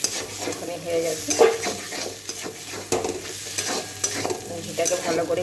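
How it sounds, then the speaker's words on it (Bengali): Banana flower ghonto being stirred with ghee in a pan, a steady scraping and soft sizzle with a few sharper spoon knocks, close and continuous with no talking. "ঘিটাকে ভালো করে মিশিয়ে দিচ্ছি"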